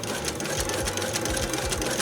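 A sewing machine stitches fabric from a remade Nagoya obi for a bag, its needle running in a fast, even, close-up chatter throughout.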